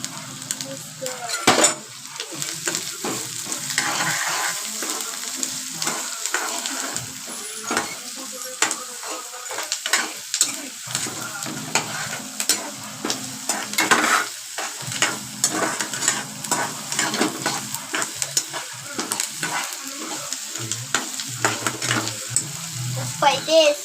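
Onions frying on high-medium heat in a pan, a steady sizzle with repeated scraping stir strokes of a utensil against the pan throughout, close and fairly loud, no talking.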